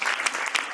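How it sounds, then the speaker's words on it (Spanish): Audience applause for the interpreter at a press conference for the series Griselda, a dense burst of clapping filling the whole brief moment with no talk over it. "Por favor, un aplauso para la traductora."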